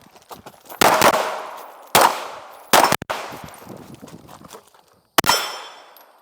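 Several loud, sharp gunshots crack at an outdoor shooting range, fired at a steel target, spaced irregularly with quieter clatter and movement between them and no talking.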